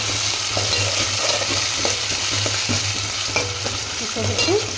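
Tomato sizzles in hot oil for a mutton masala gravy while a spoon scrapes and stirs the pan in steady, repeated strokes, close up, with no voices.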